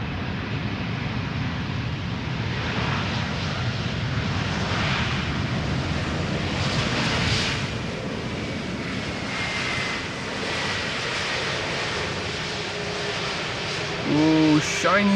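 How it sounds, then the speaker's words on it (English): An SAS Airbus A320neo arriving from Oslo at Schiphol's Polderbaan, its engine roar loud and sustained as it passes, swelling slightly midway before tapering off; a brief voice is heard at the end. "SAS flight 821 arriving from Oslo. It is an A320neo."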